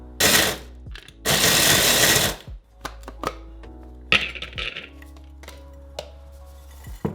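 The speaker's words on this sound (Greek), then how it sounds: "Βάζεις τα μπισκότα σου και ξεκινάς το άλεσμα." A food processor grinds biscuits for the base of a vegan chocolate tart, two loud roaring bursts close by, followed by quieter clicks and rattles of the machine and its lid.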